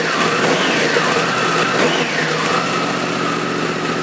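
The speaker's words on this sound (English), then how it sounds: "Give it a couple revs here." A 2011 Yamaha YZF-R1 sportbike with a cross-plane crankshaft engine and aftermarket exhaust revs up close, with a couple of rising and falling throttle blips before settling back to a steady idle.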